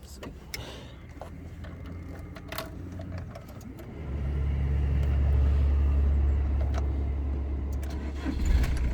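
A Volkswagen Transporter T3 van engine cranks and catches at once, then settles into a steady, even low idle rumble up close, with light rattles at the start.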